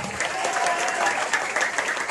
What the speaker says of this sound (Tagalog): O pumalakpak ka muna ng todo.